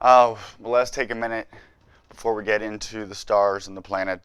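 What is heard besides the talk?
No distinct noise like a dog, phone or traffic.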